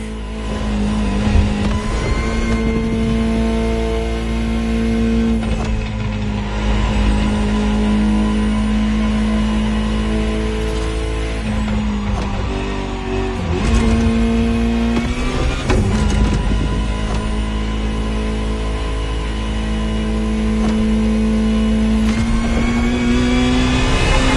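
A Ferrari supercar engine in the video game The Crew Motorfest drones loudly and steadily, its pitch climbing through each gear and dropping at every shift in repeated acceleration runs, with no talking.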